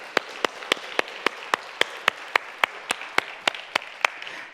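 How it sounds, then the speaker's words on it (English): Rhythmic, evenly spaced claps ring out in a church service honoring the men of the congregation, a few hands beating together in a steady slow cadence over a softer wash of scattered clapping. "Let's give our men a round of applause."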